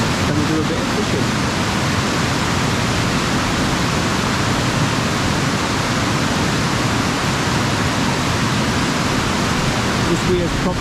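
Water pours over a river weir in the park at Chatsworth, a dense, unbroken rushing roar that stays constant and fills the whole scene.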